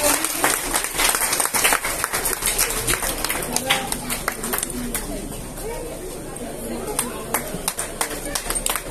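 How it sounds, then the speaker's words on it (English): An audience at a Durga Puja prize distribution applauds with a dense, continuous clatter of clapping, while voices and crowd noise mix in underneath throughout. "A huge round of applause for Ishan."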